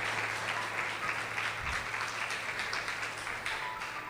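A church youth gathering audience applauding together, a dense, steady patter of many hands clapping at moderate distance throughout with no talking.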